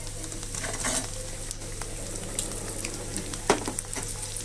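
A spatula stirring leftover rice into fried egg and chilli powder in a hot pan, a continuous soft sizzle with scraping strokes and an occasional sharper clink, close up.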